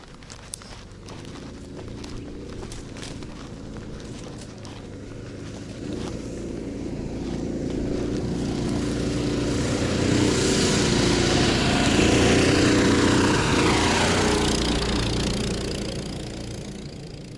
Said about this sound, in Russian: Вот такие каракаты ездят.